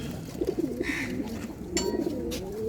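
Pigeons cooing inside a loft in Keraniganj, soft rolling low coos repeated close by, with faint rustling and other bird sounds in the background.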